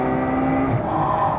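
A Ferrari 812 Superfast's V12 screams up toward 9,000 rpm under full throttle, a loud, close, rising engine howl with dense harmonic tone that shifts pitch as revs climb, no voices over it.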